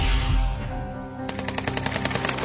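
A sniper gunshot sound effect from a Taliban firefight scene: a heavy booming shot, then a rapid run of loud machine-gun bursts firing in a steady rhythm.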